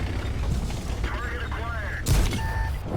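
A single tank gun shot in World of Tanks fired from a T-44-100, a sharp blast late in the clip over game mechanical noise and beeps, with someone talking beforehand.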